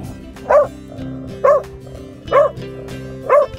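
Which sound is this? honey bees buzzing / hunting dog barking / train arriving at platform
hunting dog barking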